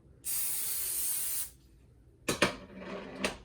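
A single sustained hiss of cooking spray onto a waffle iron for about a second, followed by a few light metallic clicks and knocks.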